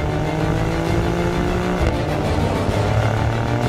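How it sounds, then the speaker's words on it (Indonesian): An Alfa Romeo Stelvio Quadrifoglio SUV in race mode gives a loud, aggressive exhaust drone from close by, with a shift-like step in pitch partway through and no talking. "otomatis suara knalpot menjadi lebih besar dan agresif dibandingkan mode lainnya"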